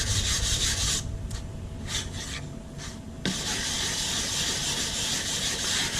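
A composite fin being sanded by hand with sandpaper, giving steady close rasping strokes with a short pause partway through.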